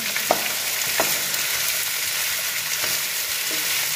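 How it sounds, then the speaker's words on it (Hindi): Onions fry lightly in a pan, giving a steady soft sizzle with a few faint stirring scrapes over about four seconds. "मिक्स कर दें तो प्याज में हल्का फ्राई कर दें।"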